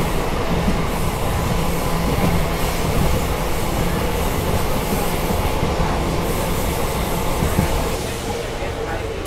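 A train on the Bengaluru airport to city line rumbles steadily with rail clatter and wheel noise, heard continuously from inside the carriage at moderate loudness and easing slightly near the end.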